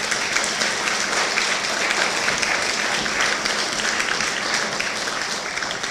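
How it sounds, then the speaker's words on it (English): A large audience at a mayor's State of the City address breaks into sustained applause, a dense and even clatter of many hands that stays loud for six seconds. "That deserves a round of applause."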